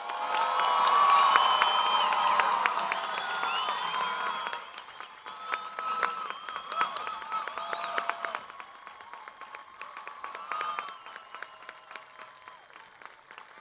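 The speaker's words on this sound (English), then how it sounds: "Let us give these young adults a round of applause." Audience applause at a high school Class of 2020 graduation ceremony, loud and dense at first with some cheering, then thinning into scattered claps before fading.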